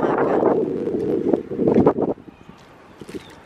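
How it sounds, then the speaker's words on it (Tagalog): Strong wind gusts buffet the microphone outdoors in India, with heavy rumbling bursts that ease off toward the end into lighter, intermittent blowing. "Malakas pa rin yung hangin."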